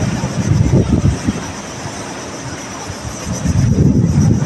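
A low, rumbling helicopter drone fills the air, swelling and fading with gusts of wind buffeting the microphone.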